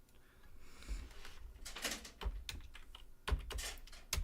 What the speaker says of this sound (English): Can I just type this in?